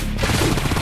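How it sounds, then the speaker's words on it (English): Stake gun firing in the Painkiller: Hell & Damnation video game during chaotic co-op combat, a dense, loud burst of overlapping gunfire and impacts filling the whole moment. "Use your stake gun, but you gotta aim it."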